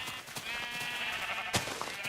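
White sheep bleating in Minecraft, a single clear, close bleat heard alone over a quiet background.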